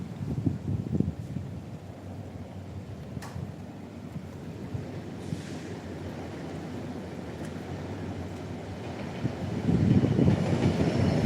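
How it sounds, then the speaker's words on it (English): A train rumbles past in rainy, windy weather, a low steady rolling roar heard from nearby that swells toward the end, with wind noise mixed in. "Oh, we have a train here."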